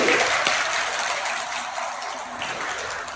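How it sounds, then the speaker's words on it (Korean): A congregation at a Catholic diocesan gathering claps together in agreement, a short burst of dense, even applause that fills the room and holds steady before easing slightly. "동의하시면 박수 한번 쳐주세요"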